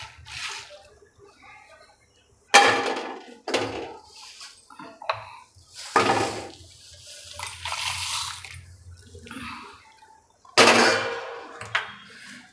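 Home-roasted pav bhaji masala spices, cooled after roasting, are ground in an electric grinder, heard as several loud whirring bursts of a few seconds each, separated by quieter gaps with light rattling and handling.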